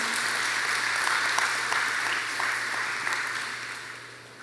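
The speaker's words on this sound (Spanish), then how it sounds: "Démosle un fuerte aplauso al Señor." A church congregation claps steadily and enthusiastically, a dense wash of applause that holds for several seconds before easing slightly.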